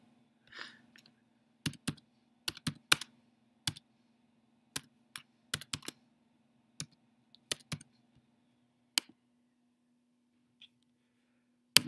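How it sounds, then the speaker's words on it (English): Keys on a computer keyboard are tapped in scattered bursts, with sharp close clicks in uneven clusters and pauses between them over a quiet, faint background hum, and nobody speaking. "You have to type a welcome message."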